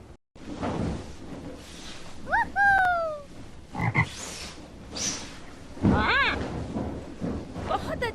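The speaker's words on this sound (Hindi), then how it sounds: "मेंढक," A frog croaks in short, raspy bursts, close and fairly loud, mixed with other brief animal calls and a voice.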